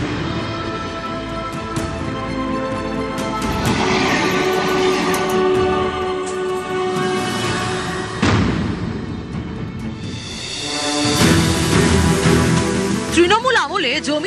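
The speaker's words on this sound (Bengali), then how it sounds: "সারাদিনই একের পর এক ট্রেন চলে।" Trains on the Sealdah–Lalgola main line, a loud passing train with rumbling wheels, a drawn-out horn and metallic screeching, plus blaring tones near the end.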